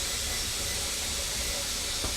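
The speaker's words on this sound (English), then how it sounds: "we've got steady steam coming out of there now" An All American pressure canner vents steam while home canning potatoes, giving a loud, steady, unbroken hiss throughout.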